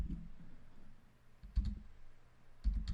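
Buttons pressed on the panel of an ambient noise sensor while keying in a password, a few soft clicks in small clusters with pauses between, quiet and close.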